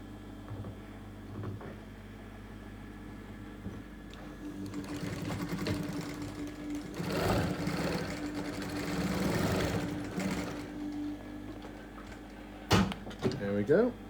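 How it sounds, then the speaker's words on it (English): A sewing machine stitches a dart in fur fabric for a hand puppet, a low steady motor whir building in the middle with brief clunks near the end, fairly quiet. "So sew the dart together."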